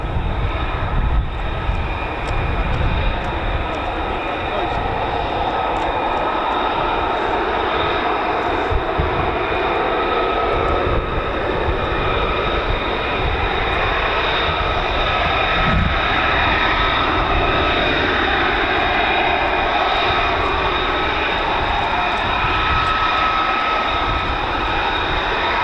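An F-35B Lightning stealth jet at a live air display roars steadily and loudly overhead as a broad, continuous engine rumble, with no voices.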